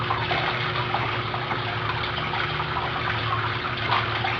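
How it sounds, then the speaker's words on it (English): Steady running water from a jacuzzi waterfall feature, a continuous rushing splash at even loudness, with a low pump hum beneath it and no talking. "this one here controls that waterfall"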